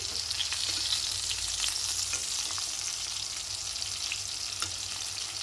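Brinjals fry in a pan for a stuffed masala curry, giving an even, bright sizzle throughout with faint clicks and light stirring now and then.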